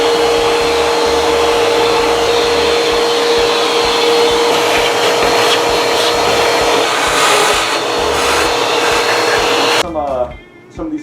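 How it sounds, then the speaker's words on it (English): A vacuum cleaner clearing debris out of a vintage accordion, a loud, continuous close-up whine with a steady tone that cuts off abruptly near the end. "I then vacuumed out as much as possible."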